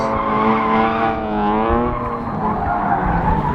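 Drift cars slide around a Las Vegas drift event course, producing a long, loud, continuous tire squeal with wavering pitch over engine roar, heard from a short distance without talk.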